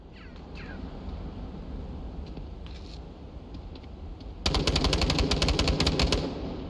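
Rapid bursts of automatic gunfire during a competitive video game match, a sharp rattling volley erupting loudly after a stretch of quieter background game noise and a few distant shots.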